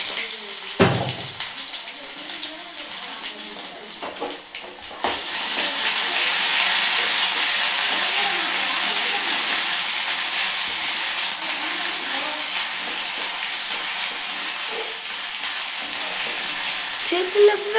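A ginger and garlic tempering hits hot oil in a pan. A clatter comes first, then a steady, loud sizzle runs unbroken to the end, with a voice talking faintly now and then.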